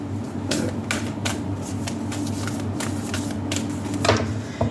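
A tarot card deck being shuffled by hand gives quick, crisp riffling bursts and soft slaps in uneven spurts over a steady low room hum, close to the listener.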